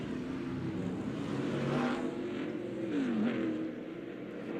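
A NASCAR race car pulls away from pit road at Atlanta after a four-tire stop, its engine droning loud and steady with rising and falling revs as it accelerates off, crowd and track noise filling the background.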